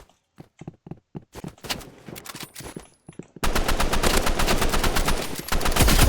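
Gunfire in a video game, first a series of separated sharp shots, then a dense, loud, continuous volley of rapid fire that runs to the end.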